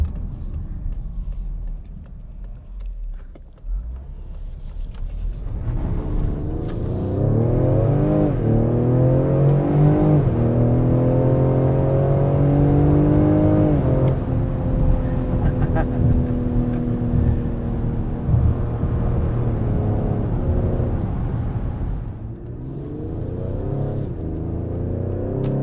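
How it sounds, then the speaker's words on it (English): A 2021 Ford Explorer ST in sport mode downshifting under hard braking into a corner, engine revs rising and falling loudly from inside the cabin, with a steady road roar underneath. "sport mode's downshifting for us under hard braking around a corner"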